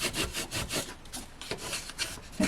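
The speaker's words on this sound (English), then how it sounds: "And then I can give all these lines a really good burnish down." Folded card creases being burnished down with a rapid back-and-forth rubbing stroke, a close, dry scraping rhythm repeating several times a second over the short clip.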